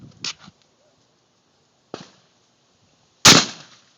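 Outdoors, a shotgun fires one loud, close blast after a couple of fainter knocks and thumps, and the report rings out briefly before it fades.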